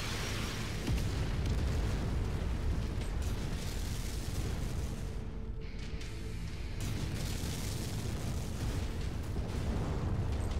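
Continuous heavy rumbling blasts and booming explosions from mech weapons in the video game Mechwarrior 5: Mercenaries, with gunfire-like bursts, loud and dense with no talking.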